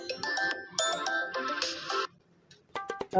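A phone ringtone plays a repeating electronic melody of bright tonal bursts for about two seconds, stops briefly, then sounds again near the end, loud and close with no talking.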